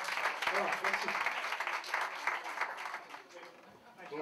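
A live audience at a French slam and stand-up show claps, a dense, steady wash of applause that holds throughout at moderate loudness.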